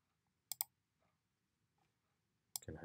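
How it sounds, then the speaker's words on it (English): A computer mouse gives a quick double click, two sharp close clicks, while designing a poster in Adobe Photoshop; faint quiet sounds follow and another click arrives just before a voice begins. "double click"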